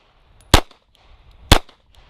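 Two sharp, loud gunshots crack about a second apart, each a sudden close blast with a short decay into quiet.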